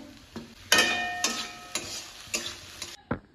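Green beans and capsicum sizzle in a hot pan as a spatula scrapes and stirs in regular strokes, the frying loud and close, then cutting off near the end; no talking.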